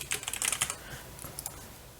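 Keystrokes on a computer keyboard as someone types a short command into the Windows Start menu: a quick burst of clicky taps, then a pause and a few scattered presses, close and crisp with no voices.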